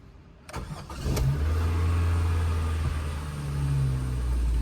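A car engine cranks briefly after a faulty starter motor was replaced, catches and fires up, then settles into a loud, close running rumble with a slight rev toward the end.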